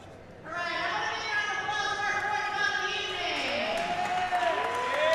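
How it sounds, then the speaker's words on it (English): An audience applauds two boxers at a tournament in Yonkers, New York, a dense, sustained wash of clapping and crowd noise that starts abruptly and holds steady, with a voice speaking over it. "nice round of applause for these two athletes here this evening"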